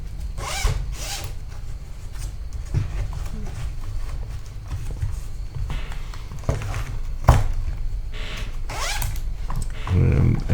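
A zipper runs in several quick pulls on a padded camera case built for a DJI Osmo Pocket, close and crisp, with handling rustles between strokes.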